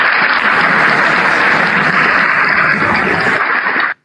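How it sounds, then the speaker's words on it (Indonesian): Applause from a Sunday school gathering at a church: dense, steady clapping from a group that fills the space for about four seconds, then stops abruptly. "Tepuk tangan untuk Tuhan."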